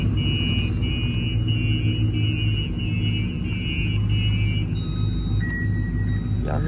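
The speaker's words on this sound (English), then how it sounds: "I hear that damn alarm going on." A repeating electronic alarm beeps in steady pulses over a low idling truck engine rumble, then stops as a different tone briefly sounds.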